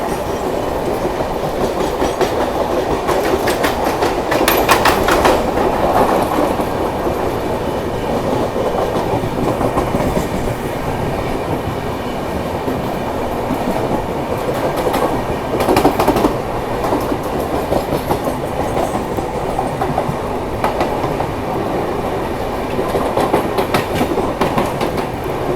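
The Garib Rath express train runs past Kurla station in Mumbai alongside a local train, giving a continuous loud rumble and rhythmic clickety-clack of wheels over rail joints, with occasional metallic bursts and no talking.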